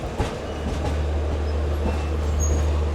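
A freight train hauled by a WAG9 locomotive runs parallel to the Shalimar Express near Ghaziabad, giving a steady low rumble with soft clickety-clack and occasional wheel screech, heard alone without talk.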